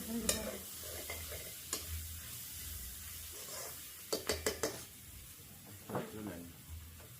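Ingredients sautéing in a pan on the stove: a soft sizzle underneath while a spoon scrapes and taps the pan in scattered bursts, including a quick run of clinks, close by with faint voices in the background.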